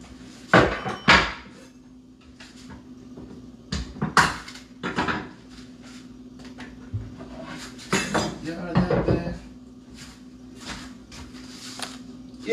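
Spoon stirring a scotch bonnet salsa in a bowl, giving scattered clinks and scrapes in irregular bursts, close up, with a steady low hum underneath.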